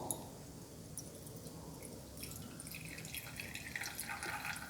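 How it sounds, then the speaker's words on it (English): Water drains from a separating funnel into a glass beaker in a chemistry lab, a faint steady trickle with light dripping and splashing. "Collect the water in a beaker."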